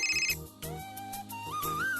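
An electronic telephone ringtone plays for an incoming call, a looping melodic tune with steady tones, moderately loud and alone without talk.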